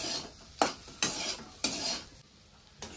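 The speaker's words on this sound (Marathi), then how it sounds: "दोन मिनिटं हलवायचं आहे, म्हणजे आपली चटणी मग तयार होते." A spoon scrapes and stirs pea chutney in a pan with a faint sizzle, four or five distinct strokes in steady rhythm, close and fairly quiet, with no talking.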